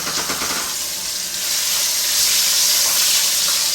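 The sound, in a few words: searing oxtail in a pan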